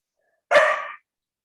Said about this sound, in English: Check the dog here while you guys finish that.